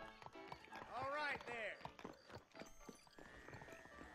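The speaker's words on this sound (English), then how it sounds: "let's just call for our horse" A horse in the Xbox 360 game Red Dead Redemption, called by the player, gives a loud whinny near the start, then hooves clip-clop steadily over game ambience.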